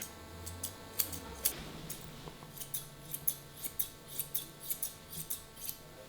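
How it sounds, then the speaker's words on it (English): Grooming scissors give a steady run of crisp, close snips while trimming a poodle's tail hair, about a dozen quick cuts spaced roughly half a second apart over a low room hum, with no talking. "anything that is touching the floor, as you can see there, just give that a little snip"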